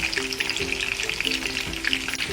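Paneer pieces frying in hot oil, a steady close sizzle with fine crackling and bubbling that continues evenly throughout.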